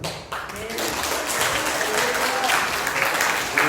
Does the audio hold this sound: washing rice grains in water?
no